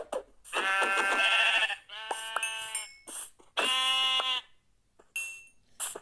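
Several sheep in the video game Minecraft bleat in overlapping, wavering calls, close and loud, in three main bursts with short gaps and a fainter bleat near the end.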